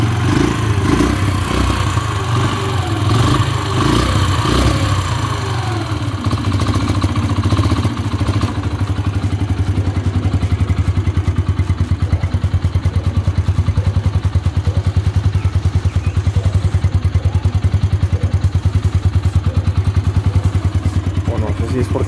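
A new Yamaha XTZ125 motorcycle engine runs nearby with a steady, rapid single-cylinder putter and faint clatter, continuous throughout while someone talks over it.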